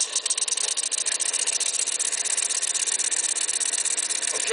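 A small engine mounted on a lawnmower runs steadily, a close, continuous buzzing drone with a fast rattling pulse and no breaks or voices.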